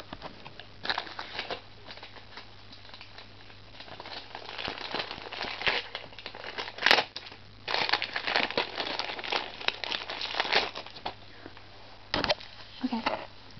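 Crinkly wrapping on a green Lush bath product is pulled open, giving bursts of close rustling and crackling that come and go across the clip over a low steady hum.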